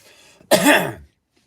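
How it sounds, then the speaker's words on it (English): A single harsh cough, close and fairly loud, preceded by a brief soft rasp and then silence. "So you have to excuse me because I'm coughing a lot"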